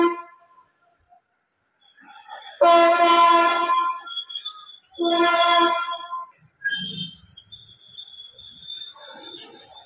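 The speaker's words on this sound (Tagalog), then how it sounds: "So, may train na dadaan. Bumubisi na yung train." A passing train sounds two long, loud horn blasts in a row, followed by quieter rumbling and fainter tones as it moves along.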